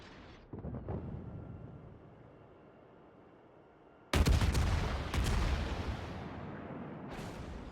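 Naval guns firing high-explosive shells in a World of Warships battle: a distant rumble with faint shots early, then heavy close cannon blasts in bursts that leave a rolling roar, with another salvo near the end.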